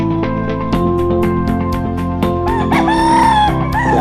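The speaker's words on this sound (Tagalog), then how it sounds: "magpapasyal-pasyal po muna tayo sa kanyang munting manukan para silip-silip tayo" Roosters crow repeatedly at a small backyard game-fowl farm, several birds overlapping near and farther off, with steady clucking and farmyard noise beneath and no talking.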